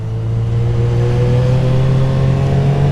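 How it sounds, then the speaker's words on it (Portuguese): A small motorcycle with a punchy engine accelerates in traffic, giving a loud, steady, close engine drone that holds an even pitch. No one speaks. "viu que eu acelerei aí no caminhão?"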